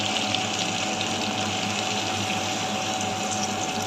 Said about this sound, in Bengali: তাই আমি দুধটা দিয়ে দেবো